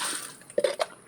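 A few short splashes and drips as excess water is tipped out of a container, brief close bursts following a fainter wash of water.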